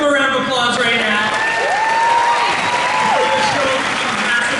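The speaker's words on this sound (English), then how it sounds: "Let's give them a round of applause right now." Sustained applause from a large convention-panel audience at San Diego Comic-Con 2019 (Nancy Drew panel), a dense steady roar of clapping with scattered cheers and whistles, loud and even throughout.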